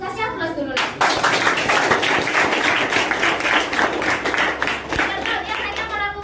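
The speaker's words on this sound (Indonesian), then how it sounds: "Kasih aplaus dulu lah." An audience breaks into lively applause at a promotion celebration, many hands clapping densely and steadily for several seconds after a brief spoken lead-in, with a few voices mixed in.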